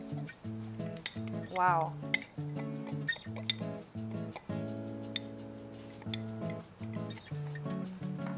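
A utensil clinks and scrapes against a bowl while a brown sugar marinade for Brazilian-style barbecue chicken is mixed, with rapid light metallic ticks running under a voice and sustained background tones.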